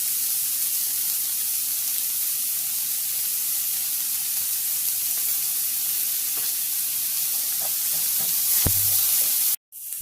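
Continuous sizzling of onions sautéing in a pan, steady and close, with a few light clinks near the end and no talking.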